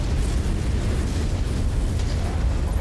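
Autocannon fire and explosions from MechWarrior 5, heard as a dense, continuous low rumble of booms and blasts with no distinct gaps, loud and close throughout.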